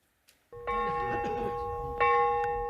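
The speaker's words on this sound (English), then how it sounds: "the bell tolled at the small chapel" A church bell tolls at a small chapel in Windsor Great Park, two resonant strikes with long ringing hum between them, heard at moderate distance over faint outdoor background.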